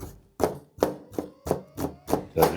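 A knife chops an onion finely on a board in seven or eight steady, close, sharp strikes, each a crisp thud, with no talking.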